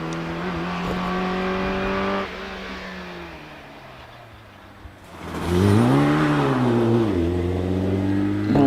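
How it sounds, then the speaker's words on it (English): MG TC car, number 71, at a Prescott hillclimb: a loud engine revs and pulls away through several gear changes, pitch rising, dipping and climbing again as it accelerates up the course, near then receding. "Dave Morris in the MGTC comes into a Torres, car number 71."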